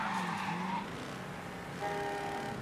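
Tires squeal in a long screech as a car drifts, with engine noise in the PC racing of Mafia III, fairly quiet and continuous.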